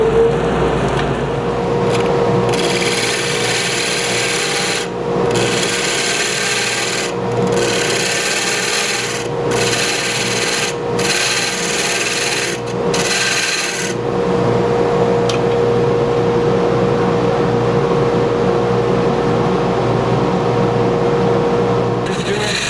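A dust collector runs with a steady, droning hum and a faint whine while copper bangle stock is turned on a lathe. Repeated rasping cutting passes come in short bursts over the drone, then fade.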